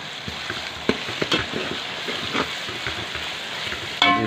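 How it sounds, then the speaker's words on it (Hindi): Onions frying with ginger-garlic paste in a pan for kadhi pakora, a steady close sizzle with spoon stirring scrapes scattered throughout and a sharper clatter near the end. "अब इसको 3 से 4 मिनट इसको भूनेंगे"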